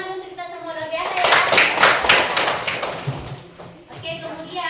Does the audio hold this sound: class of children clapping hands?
yes